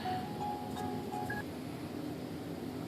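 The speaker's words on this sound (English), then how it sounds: "The phone was ringing." A telephone rings with a few short electronic tones, some steady and some stepped in pitch. They are faint and sit over a constant low background hum, with no talking.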